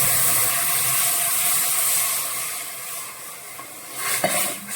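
Coconut milk cooking in a pan for a homemade jam: a continuous soft sizzling hiss, easing slightly midway, with a couple of light metallic clinks near the end.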